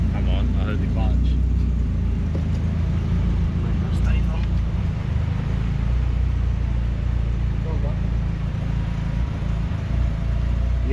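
Up close, the engine of a 400kW Nissan S14 200SX rumbles steadily at a loud, even idle, with people talking over it.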